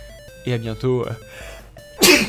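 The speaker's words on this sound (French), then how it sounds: "À tes souhaits" A single sharp, loud sneeze bursts out right after a short stretch of French speech, close to the microphone.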